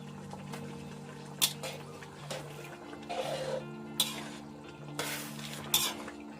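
Rice noodles blanched in a pot of boiling water for Thai papaya salad, with clinks of metal utensils against the pot, stirring and scraping over a steady low hum, several sharp taps standing out.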